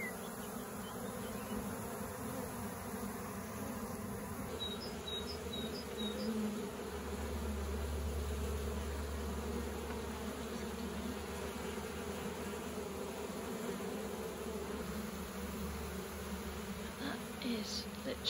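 Honeybee swarm droning in a dense, continuous buzz while being caught from a tree into a nuc hive without smoke, steady and close, with a low rumble swelling midway and faint individual bees darting past.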